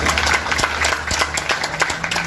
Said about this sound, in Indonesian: Tepuk tangan buat Gresik United.